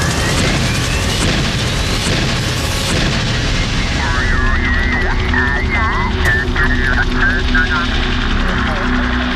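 Loud, chaotic battle noise with rumbling booms and rotor-like thumping from a Black Hawk helicopter being shot down, then a tone-laden shift as voices and radio chatter come through.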